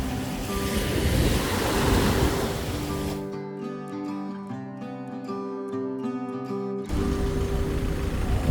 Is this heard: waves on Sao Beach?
yes